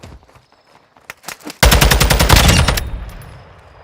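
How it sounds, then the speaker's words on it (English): Gunfire in the video game Trepang2 with a sniper rifle: a few scattered sharp reports, then a loud, dense burst of rapid shots that trails off into echo. "It has a slower firing rate, but it hits hard. I mean, it's a sniper rifle."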